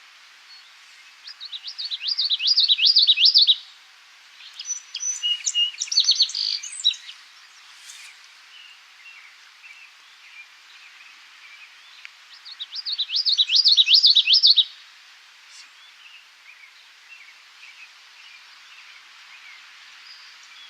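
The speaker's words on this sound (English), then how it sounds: "Yeah, it's definitely a song sparrow there." A warbler sings two loud bursts of rapid, repeated 'witchity' phrases. Softer song sparrow notes chirp in the background between them, against quiet outdoor ambience.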